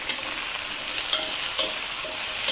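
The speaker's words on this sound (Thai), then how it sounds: "ผักทั้งหมดทั้งจานใส่ลงไปเลยค่ะ ผัดกันแบบง่าย ๆนะคะ" Mixed vegetables stir-fry over maximum heat in garlic-fried oil, a dense, continuous sizzle filling the clip, with light scraping strokes and faint metallic taps as the spatula tosses them.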